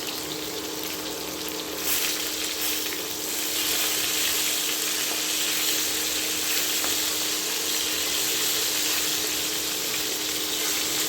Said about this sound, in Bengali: মাংসগুলো এবার এক পাশ ভালোভাবে ভেজে নিতে হবে।